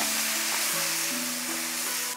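Green Sichuan peppercorns and pickled mustard greens fry in hot oil in a big wok, giving a loud, continuous close sizzle with a faint tonal hum underneath and no voices.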